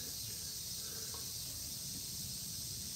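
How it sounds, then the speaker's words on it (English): Cicadas in hot summer weather in Japan give a steady, high, hissing buzz that runs unbroken throughout, fairly faint and with no talking. "No, that's freaking cicadas."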